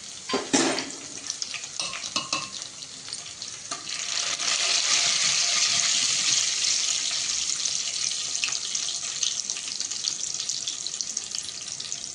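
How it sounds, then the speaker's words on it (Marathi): Crushed garlic frying in a pan for a dhaba-style dal tadka, a steady broadband sizzle that swells louder midway and holds, with a few sharp clinks near the start and no talk. "आणि लसूण ठेचलेला बघा थोडं थोडंसं फ्राय होईल"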